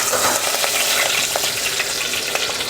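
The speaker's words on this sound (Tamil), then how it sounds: "எண்ணெய் காஞ்சதுமே வெந்தயம் சேர்த்துக்கலாம். வெந்தயம் பொரிஞ்சதும் கருவேப்பிலை," Curry leaves and fenugreek seeds fry in hot oil, making a loud, dense, continuous sizzle with crackling pops, heard close and alone.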